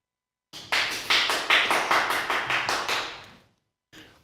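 A single person claps about ten times in a steady rhythm, close and fairly loud, then pauses briefly before one last clap, with no one talking.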